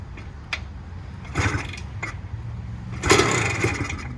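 Kick-start attempts on a 1982 Husqvarna WR250 motorcycle with the choke on: two short bursts of engine sputter a couple of seconds apart, each catching briefly before dying, set against faint background noise.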